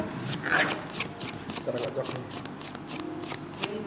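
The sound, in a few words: shuffling tarot cards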